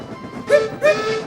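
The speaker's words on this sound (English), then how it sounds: "Whistled Douglas urgently" Two short, sharp steam train whistle blasts sound in quick succession, loud and close over a low background rumble.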